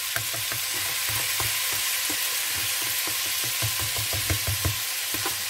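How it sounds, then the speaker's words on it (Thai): Rice sizzling and frying in a hot pan with ginger for Thai chicken rice, stirred with a regular rhythm of spatula scrapes and taps over a steady hiss, close and alone. "จะลงไปผัดเลยจ้ะ พัดไปเรื่อย ๆ จ้ะ"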